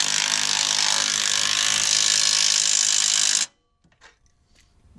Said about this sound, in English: And here comes Benny with more Ugga Duggas.